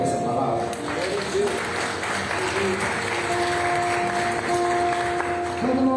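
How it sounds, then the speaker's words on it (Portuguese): A church congregation at a Sunday service applauds, a broad sustained clapping that carries throughout, with some voices and a faint tone audible under it. "Você pode aplaudir o Senhor por essa palavra?"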